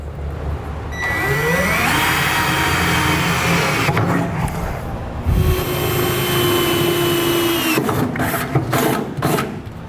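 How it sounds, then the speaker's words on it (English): A power drill bores pilot holes through the steel bed of a 2016 GMC Sierra truck, whining loudly in two long runs with rising pitch, broken by short gaps and clunks. "Now we need to drill 4 pilot holes for our safety chains loops."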